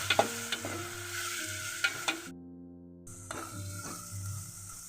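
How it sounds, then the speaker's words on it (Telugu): Ginger garlic paste frying in a pan for a village-style mutton curry, with a bright sizzle and several sharp stirring knocks against the pan. The sound drops out for a moment, then the sizzle picks back up. "వేసుకొని బాగా మిక్స్ చేసుకొని ఇది పచ్చివాసన పోయేంత వరకు వేయించుకోవాలి."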